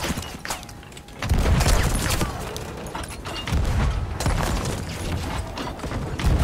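Ship cannon fire in a pirate naval battle game, a string of heavy booming blasts and crashing impacts rolling over each other in close succession, with splintering debris and mechanical clatter between shots.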